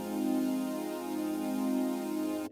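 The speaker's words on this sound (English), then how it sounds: "So it's just a really basic supersaw almost" A basic supersaw synth patch with wavetables carrying extra high-end fuzz, played dry without filter or effects: a thick, bright sustained chord holding steady and loud for about two and a half seconds before cutting off abruptly.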